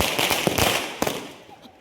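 Deepavali firecrackers burst in quick crackling pops, a few sharp reports that fade into a dying hiss.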